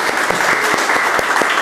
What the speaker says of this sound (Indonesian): beri aplaus ya sedikit